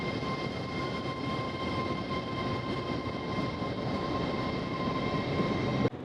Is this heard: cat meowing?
no